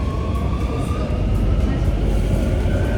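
A Singapore metro train running with a loud steady rumble and roar heard from inside, a faint whine above it, unbroken for the whole stretch.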